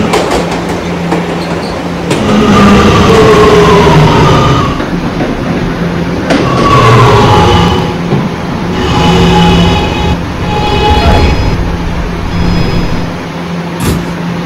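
Simulated R211 E subway train from a Roblox game running steadily along the rails, a loud continuous rumble with rail clatter, rising and falling in waves, with no voices.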